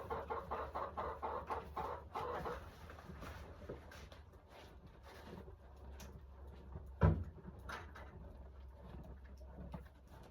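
Farm chickens cluck and coo at a low level, with a steady rhythmic run of calls early and quieter scattered clucks later, plus one brief louder knock.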